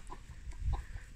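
Soft, low clucking from young hens, a few short murmuring calls close by with faint background noise.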